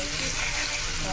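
Garlic and chili chutney paste frying in a pan, a steady broadband sizzle throughout the short stretch, close and even with no clear pauses.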